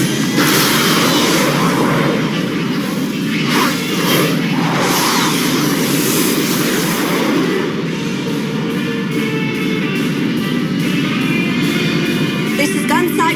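Veritech fighter jets from an animated series roar through takeoff, a loud, dense, sustained engine rush with whooshing swells, close and continuous across the whole span with no talk over it.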